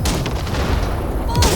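Gunfire from Cyberpunk 2077 blasts ship wrecks in loud, continuous bursts with deep booming impacts, closing on a heavier hit near the end.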